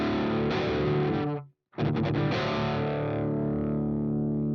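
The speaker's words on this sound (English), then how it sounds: "So here we go with the thrash metal." An electric guitar through a thrash metal distortion preset in an amp plugin plays heavy, saturated chords, with a brief silent gap between strums, then a ringing chord that slowly decays, loud and alone.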